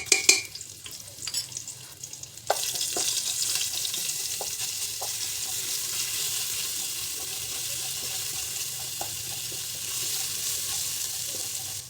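Whole spices such as cinnamon, pepper and green cardamom, with ginger garlic paste added, sizzle steadily in a pan after a few clinks and stirring sounds at the start, then a constant loud frying hiss.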